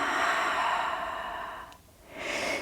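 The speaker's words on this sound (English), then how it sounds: "Exhale it out." A long, soft breath is let out during a yoga pose in a quiet room, a close airy exhale that fades away, with a faint rise of room noise afterward.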